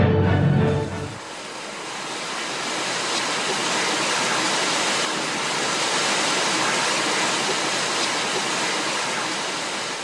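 Groundwater gushes from contacts in volcanic rock inside an underground gallery on El Hierro: a brief low rumble at the start, then a loud, continuous, close rushing hiss of water pouring without pause.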